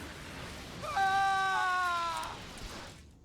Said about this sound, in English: Scream, weakling. I want to hear your suffering.